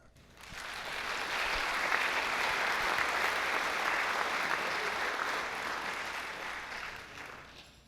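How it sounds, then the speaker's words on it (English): An audience applauds for the conductor of a high school show band at a Broadway-themed concert, a sustained, fairly distant burst of clapping that swells, holds for several seconds and then fades. "Let's give him a warm round of applause"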